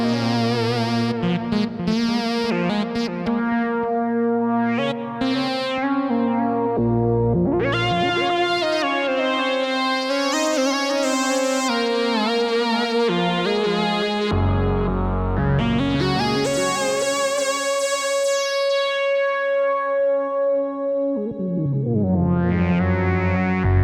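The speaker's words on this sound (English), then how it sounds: "I'm going to now play a little bit on the third wave lead sound that I've created" A lead synth patch on the Groove Synthesis 3rd Wave, bright and buzzy with effects, sliding and gliding through long sustained notes with swells and pitch bends, loud and continuous without talking.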